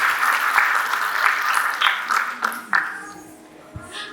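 Audience clapping after a Bharatanatyam arangettam dance performance in New Jersey, a dense burst of applause that stays steady and then gradually thins and fades out near the end.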